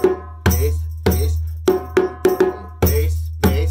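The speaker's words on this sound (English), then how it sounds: "Here. Now we're going to play that on the drum." A djembe struck in a West African rhythm, with deep resonant bass strokes landing in uneven groupings, each booming hit decaying before the next, played loud and close.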